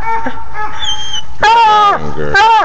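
A hunting dog at a tree during a coon hunt whimpers, then breaks into loud, high yips and short barks, close and insistent.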